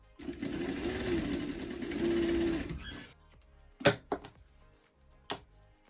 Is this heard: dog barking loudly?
no